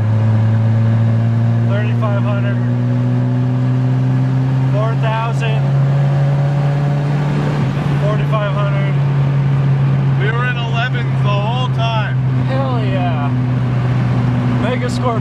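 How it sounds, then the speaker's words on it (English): A drift car's engine, running a Megasquirt-tuned setup, holds a loud, steady drone as it pulls up a freeway on-ramp, its tone rising and shifting in stepped pulls, with someone talking over it throughout. "We out here, about to get on the freeway. It's on-ramp pull coming at you."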